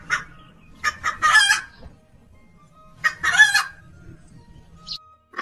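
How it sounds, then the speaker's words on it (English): A rooster crows twice, loud and close, with a pause between calls and some low clucking underneath. "H for hen."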